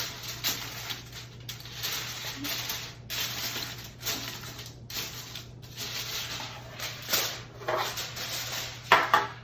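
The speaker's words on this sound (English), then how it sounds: "I open my foil, and I fold it over the back of the pan." Aluminium foil being opened and folded over the back of a baking pan, with repeated crinkling and crackling bursts close by and a low steady hum underneath.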